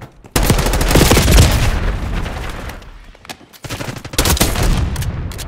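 Automatic and single gunfire in a Call of Duty Black Ops 6 multiplayer match on a Bulgaria map, loud dense bursts with rapid rattling shots, a brief lull, then another heavy volley.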